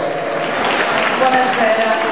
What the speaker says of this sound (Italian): Facciamo un applauso per la signora Stefania che è qui con noi oggi